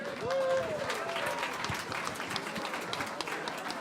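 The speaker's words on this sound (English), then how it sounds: "let's give a big evening round of applause" Audience applause at a health innovation conference session, a faint, distant patter of many hands clapping, with a brief voice near the start.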